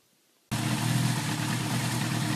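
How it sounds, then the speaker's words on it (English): Near silence is broken after half a second as a Kawasaki KZ650 motorcycle engine, its muffler freshly cleared of a mouse nest, comes in loud and close and keeps running at a steady, even rumble. "Bike's running like a charm, actually"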